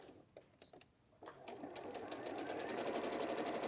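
A sewing machine stitches fabric for a make-up bag and slippers, running in a steady rapid whir that builds and holds after a few brief starts; quiet and alone, with no talking.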